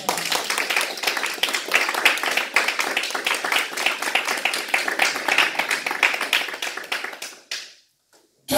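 Church congregation applauding during a Sunday worship service, a dense, lively burst of clapping that runs for about seven seconds before cutting off abruptly.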